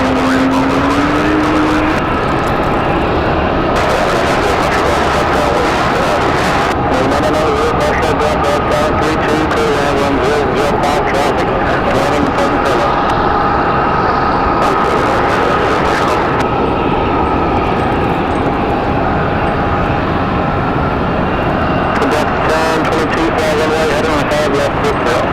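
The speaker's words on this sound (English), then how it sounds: "Delta cleared for takeoff" A Delta Airbus A220 jet takes off at Raleigh Durham International Airport, a loud continuous engine roar sustained throughout, heard up close with wind and background noise.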